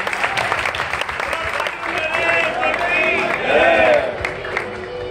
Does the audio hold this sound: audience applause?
yes